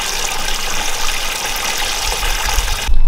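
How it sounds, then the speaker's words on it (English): Water pours steadily into a tub being filled for a cold plunge, a loud continuous rushing gush that stops abruptly near the end. "So the tub is filled up."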